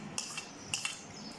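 Cut mango, peach and apple pieces tossed together in a bowl for a fruit chaat, producing a few light clinks and soft clatters of a utensil against the dish with no voices.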